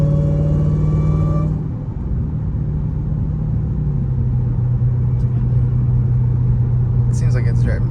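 Chrysler 300 Hellcat with a newly fitted one-piece aluminum driveshaft cruising along, its engine giving a steady low rumble from inside the cabin, with a brief quieter dip near the start and faint noise above.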